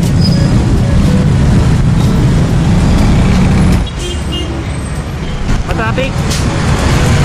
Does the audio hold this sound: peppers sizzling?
no